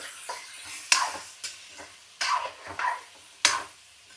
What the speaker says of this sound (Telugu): ఆయిల్లో బాగా మగ్గితే చికెన్ బాగుంటుంది